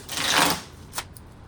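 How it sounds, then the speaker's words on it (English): A short riffle of waterproof playing cards being shuffled, a brisk flutter followed by a soft tap as the deck settles, close and quiet. "shuffle them into one big pile"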